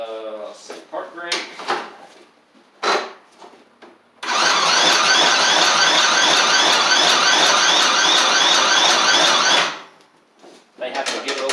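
A Murray 24-inch riding mower with an auto choke, water in the fuel and rust in its engine cranks loudly and steadily for about five seconds, with no catch. Brief clicks and a voice come before and after.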